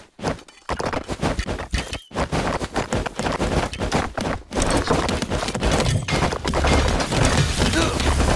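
Archidon archers firing arrows in the stick-figure strategy game Stick War Legacy, with rapid thwacks and clattering impacts layered with battle noise and game voices.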